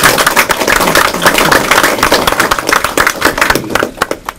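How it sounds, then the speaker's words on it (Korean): A large audience of taxi drivers at a presidential campaign gathering gives a loud, dense round of applause that holds steady for several seconds, then thins into scattered claps at the end. "우리 큰 박수 한번 쳐주시기 바랍니다."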